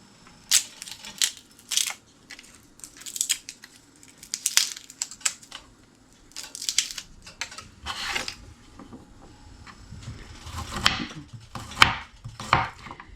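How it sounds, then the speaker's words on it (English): A knife chops a large garlic clove on a cutting board in a close, irregular series of crisp taps and short bursts. The cuts come in quick clusters with brief pauses between them, and no one speaks. "we're going to go ahead and chop up a clove of garlic"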